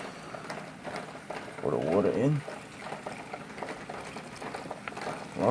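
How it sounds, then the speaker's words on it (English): Water is poured into an MRE chicken tetrazzini pouch, a short gurgling, splashing fill of about two seconds that stands out from quiet room noise, with a person talking nearby before and after. "Pour the water in."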